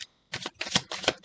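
Close, quick tarot card shuffling: a short run of about four riffling bursts in rapid succession, after a brief pause at the start.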